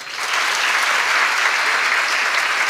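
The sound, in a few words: audience applause for parents of daughters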